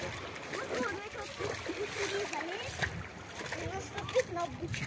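Footsteps wading and splashing through warm, shallow Black Sea water along a rocky shore, steady sloshing close by with a voice talking over it.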